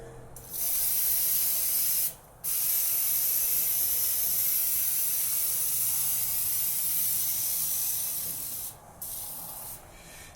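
Long hissing bursts of cleaner sprayed onto a dirty grill, close and steady with a couple of short pauses between sprays.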